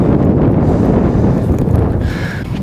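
Strong wind buffets the microphone at an outdoor fishing spot, a loud, steady low rumble that continues without a break.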